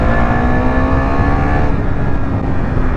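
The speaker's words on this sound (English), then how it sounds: "This is a 373cc 43 horsepower engine" A Husqvarna Svartpilen 401 motorcycle with a 373cc 43 horsepower single-cylinder engine accelerates, its steady, loud, close engine drone climbing in pitch over the full three seconds without any talk.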